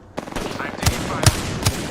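Three sharp gunshots ring out from a video game shooter at short, roughly even intervals, each with a low thump, over a steady bed of background game noise.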